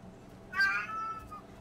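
A single cat meow from a video game, drawn out and rising then falling, clear and moderately loud over a faint low background hum.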